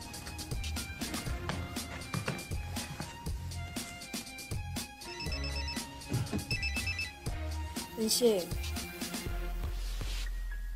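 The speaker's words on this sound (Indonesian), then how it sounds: "Toeng mendapat telepon dari si Ines untuk mengajaknya ketemuan" A telephone rings in a film soundtrack, repeated bell-like tones mixed with music and other scene sounds, moderately loud throughout.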